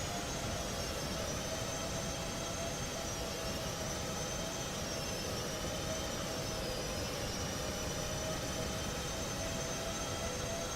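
Steady, loud jet engine roar from a simulated Boeing 737 MAX landing in Microsoft Flight Simulator, a continuous broadband rush with a faint high whine that runs unbroken throughout, with no talk.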